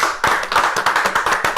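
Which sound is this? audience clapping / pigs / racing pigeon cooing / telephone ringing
audience clapping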